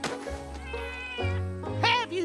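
Animated cats meowing loudly and close, several drawn-out, pitch-bending meows with caterwauling tones following one another, set against a cartoon scene's background.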